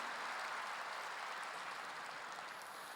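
Church congregation at a Wednesday worship service applauding, a steady wash of clapping heard from a distance and fairly faint, continuing evenly throughout.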